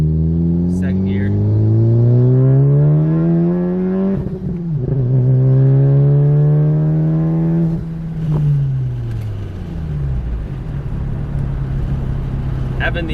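Exhaust of a 10th-generation Honda Civic revving hard through a second-gear pull, engine pitch climbing steadily, dipping briefly at a shift, then rising again before falling off to a low idle, heard loud and close from inside the car.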